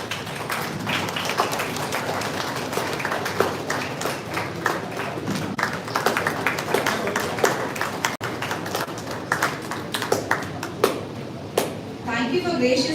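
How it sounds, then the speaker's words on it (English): An audience at an award ceremony for KSR Educational Institutions, Tiruchendur, applauds a recipient, with a continuous patter of many hands clapping beneath a voice speaking. "Let's appreciate this remarkable achievement with a big round of applause."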